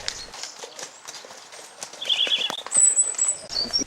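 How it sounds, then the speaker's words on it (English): Horses clip-clopping down a tree-canopied bridleway along a country lane, hoof beats soft and irregular amid birdsong and outdoor rustle, without talk. "The horses can be seen meandering down Sheep Lane to Sixway Junction"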